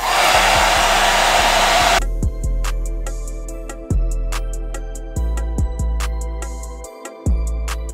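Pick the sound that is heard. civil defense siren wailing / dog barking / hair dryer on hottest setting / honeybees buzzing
hair dryer on hottest setting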